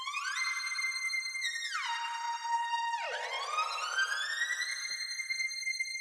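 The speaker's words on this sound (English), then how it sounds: "This lead has a pitch bend effect." A bright synth lead with a pitch bend effect plays stepped notes, then swoops down and glides back up, loud and alone with no talk.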